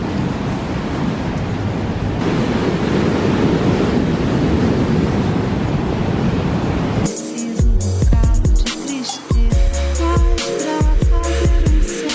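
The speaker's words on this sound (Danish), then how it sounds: "Bølgerne, de er ret store i dag." Large ocean waves crash and roar continuously at a surf spot, loud and close, followed by a burst of heavy wind buffeting the microphone.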